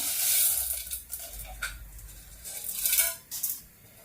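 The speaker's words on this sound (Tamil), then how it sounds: "இப்போ பயரையும் நல்லா வறுத்தெடுப்போம்" Green gram being dry-roasted in a pan, stirred with a spoon that scrapes and clinks against the metal, giving soft intermittent scraping strokes and a faint rustle of grains.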